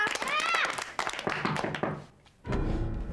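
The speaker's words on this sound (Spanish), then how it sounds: "¡Un aplauso para Julián!" Scattered hand claps for Julián among a small group, mixed with excited voices and a high squeal, then a dull thumping burst near the end.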